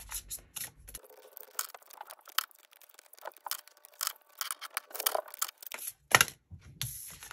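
Spell cards drawn from a card deck during a reading, giving a string of crisp, close papery snaps, slides and shuffles in irregular bursts, with a louder slap near the end.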